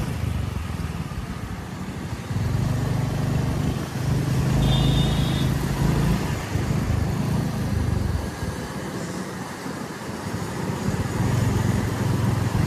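An old car runs at speed, giving a steady low engine rumble and road noise that swells and eases at a moderate distance, with no talk.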